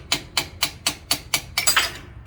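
Sharp metallic hammer blows on a chisel against a Ford tractor hydraulic ram, about nine evenly spaced strikes, then a quicker cluster of ringing taps close up, no speech.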